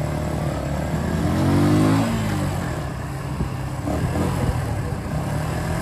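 A brand new motorcycle's engine runs steadily at close range while being ridden, rising in a revving surge near the start before settling into an even mid-pitched drone, with no talking.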